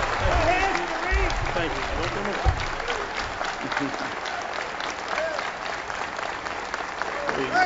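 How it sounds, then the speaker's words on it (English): An audience applauds as a speaker is brought on for a broadcast lecture, a steady, full round of clapping mixed with crowd voices, while someone briefly speaks over it. "bring him on with a round of applause"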